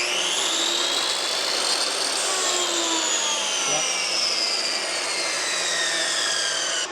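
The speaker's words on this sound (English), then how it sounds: "So let's start out with the chop saw." A chop saw run from an Anker SOLIX F3800 power station spins up with a loud, steady high-pitched whine, its pitch sliding slightly as the blade cuts through material, close and continuous.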